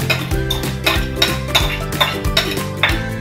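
Brown sugar being stirred into boiled vinegar in a metal pot, a utensil scraping and clinking against the sides in a steady rhythm of repeated strokes, close and clear with no talk.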